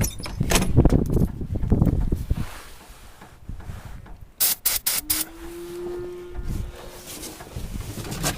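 Short bursts of aerosol lubricant hiss near the jammed gear of a John Deere 4230 tractor, several quick sprays in a row after earlier mechanical clatter, with a whistling tone trailing between bursts.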